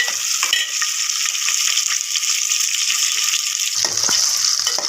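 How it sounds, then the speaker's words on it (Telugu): Onions sizzle steadily in hot oil in a pan for a mutton potato curry, a dense, even hiss that stays close and loud throughout, with a few faint stirring knocks near the end. "కొంచెం టైం పడుతుంది ఉల్లిపాయలు వేగేలాగా"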